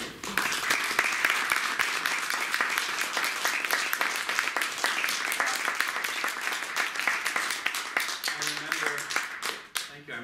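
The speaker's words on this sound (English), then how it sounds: "Now you have to clap." An audience claps after a theatrical reading, a dense, steady patter of many hands that runs strong for several seconds before thinning out near the end, with a brief voice over the tail.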